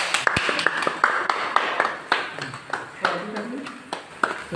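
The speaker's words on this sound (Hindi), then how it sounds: "कोई ताली बजाएगा।" A group claps at a college teacher's day celebration with a cake, a few scattered sharp claps spaced unevenly rather than sustained applause, with voices talking throughout.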